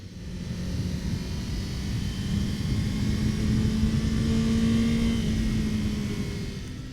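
Steady engine roar from a 2021 Honda CBR1000RR-R SP sport motorcycle with twin exhaust pipes, a low droning exhaust tone, holding constant and slightly swelling, heard up close with no voices.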